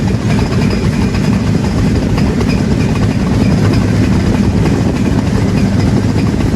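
The Rupsha intercity express train passes close by New Fultala railway station, Bangladesh, with a loud, continuous low rumble and rattling wheels, steady from start to finish with no voices.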